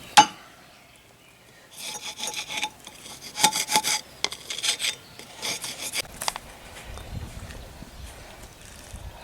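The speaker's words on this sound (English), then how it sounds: "get rid of all the old debris and clean up the spindle and clean up the carrier" Scrubbing and scraping of old debris off a mower deck spindle and carrier on a Kubota RCK32 60-inch mower deck, heard as repeated bursts of rasping, rubbing strokes in uneven rhythm, close and moderately loud.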